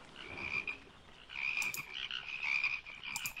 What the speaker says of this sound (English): house infested with frogs